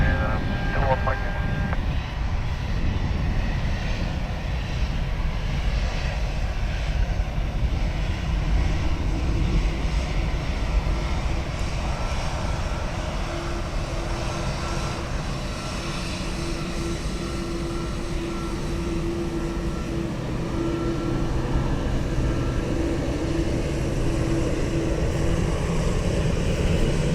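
Jet airplane taking off from runway 10 right at Dublin Airport, a loud continuous engine roar that holds steady for nearly half a minute, with faint radio chatter at the start.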